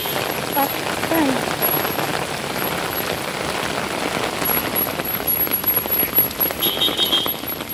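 Heavy rain pours down in a dense, steady hiss that soaks through everything, continuous and close for the whole stretch, with a faint brief tone rising near the end.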